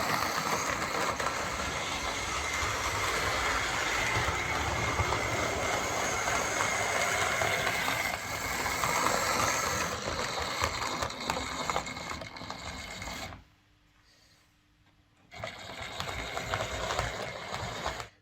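A Hornby Black 5 model steam locomotive, an old Silver Seal model in for service, runs along model railway track with a steady close whirring motor and rhythmic wheel clatter, briefly cutting out when it stops on points, then resuming.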